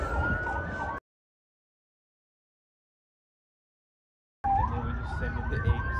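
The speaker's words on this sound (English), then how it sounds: "Oh, and then here is sirens." A wailing emergency siren drones over traffic rumble at a SWAT standoff in Henderson, Nevada, broken by a stretch of total silence before the siren returns.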